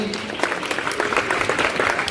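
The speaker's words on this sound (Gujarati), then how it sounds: "બધા બાળકોને પણ આપણે ખાસ પ્રેમથી તાળીઓથી વધાવીએ" An assembly audience claps warmly for a group of children at a religious gathering in Yogi Sabha Mandapam, a brief, dense burst of applause from many hands filling the space.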